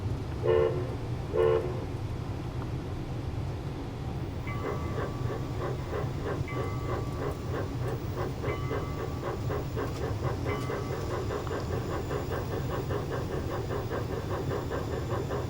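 A small narrow-gauge model train runs steadily along its track on a layout with a continuous rumble and rhythmic clicking, and short horn toots sound near the start.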